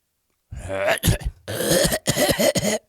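A voice imitates an animal's growling cough, with a few harsh, throaty bursts and rasping breaths from close up.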